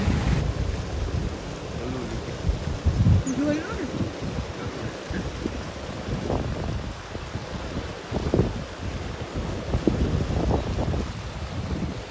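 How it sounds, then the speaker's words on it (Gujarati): A cool wind blows outdoors in a forest ashram beside clear water, a low rumbling buffet against the microphone that rises and falls in gusts, with faint indistinct voices now and then. "કેટલો મસ્ત ઠંડો પવન છે"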